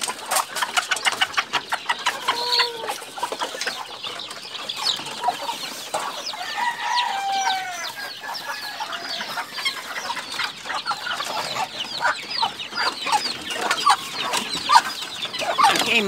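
Hungry chicks peeping rapidly alongside a hen clucking on a Sunday morning, a dense, busy mix of high cheeps and low clucks close by, continuous with no talk.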